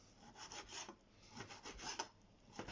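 A knife coarsely chopping a fish fillet on a board, a near, close-miked series of soft rhythmic cuts and rubbing scrapes, roughly a dozen strokes, with no voices.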